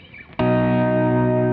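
Electric guitar played through a Fender Switchboard with reverb, a single chord struck sharply and left ringing loud and sustained, its reverb tail holding steady without fading.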